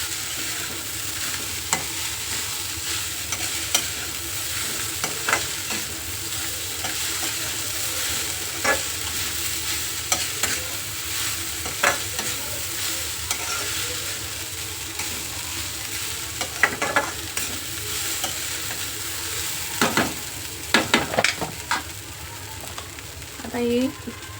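Onion poha being stirred in a frying pan, a low sizzle under repeated spoon scrapes and clinks that grow busier toward the end, with occasional speech in the background.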